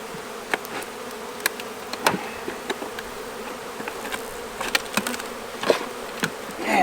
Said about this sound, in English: Oh, we got more wasps.